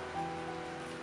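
Rain falls as a soft, even hiss of drops on a surface, faint and steady for about a second with no voices.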